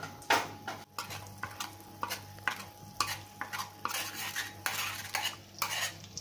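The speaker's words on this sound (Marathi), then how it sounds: "इथे आपण बटरमध्ये पाव तयार करून घेऊया. बटरमध्ये काही कंजूसी नाही करायची." Butter melting and heating in a pan for toasting pav bhaji buns gives a quiet sizzle, broken by frequent metal spoon scrapes and clinks against the pan.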